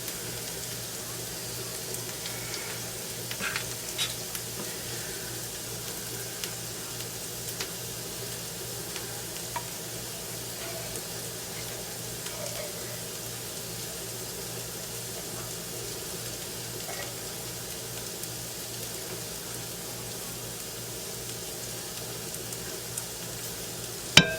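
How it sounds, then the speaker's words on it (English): Celery and onions sautéing in a pan, a soft, steady sizzle held low and even with faint occasional ticks and stirring sounds. "we're just sauteing the celery and onions to soften it a little"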